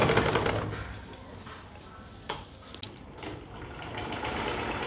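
A sewing machine stitching down the folded-over fabric at the neckline of a suit, its steady rapid whirring running almost without pause, close and moderately loud, with a couple of small clicks partway through.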